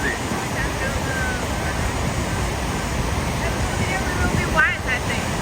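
A large New York waterfall roars as a steady, dense wash of falling water with light rain, continuous and loud throughout, with a brief swell of wind or spray near the end and faint voices beneath.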